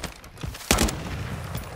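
Gunfire in Warzone 2, with a Kastov 762 rifle in the loadout: a few scattered shots, then one sharp, loud report in the middle followed by lingering rumble and lighter pops.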